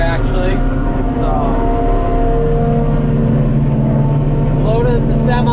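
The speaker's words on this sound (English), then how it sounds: "I got the semi, the green truck, and my 10-wheeler running" A semi, a green truck and a 10-wheeler idle together in a loud, steady diesel drone with strong low harmonics and slight pitch drifts, close by and continuous.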